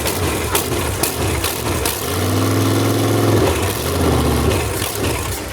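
A big-block V8 in a speedboat idles with a deep, loud rumble, rising briefly to a throaty, pulsing swell before settling back to a steady idle, with no talk.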